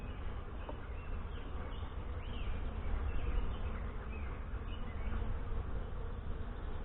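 Saskatraz honey bees buzzing around an open hive during an inspection in northwest Wisconsin, a continuous, dense, low drone of many wings, steady and close throughout.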